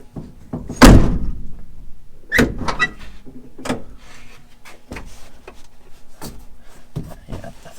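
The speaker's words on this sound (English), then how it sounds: "Let's see if the door closes." A car door on a 1951 Pontiac is shut firmly with a single loud, close thunk, followed by several lighter clicks, taps and knocks from handling the door and interior.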